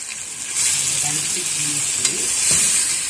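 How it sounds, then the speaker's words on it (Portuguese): Thin beef rolls sear in a hot frying pan, giving a steady, close sizzle with occasional stirring scrapes and faint pops throughout. "Eu vou dar uma leve selada neles aqui."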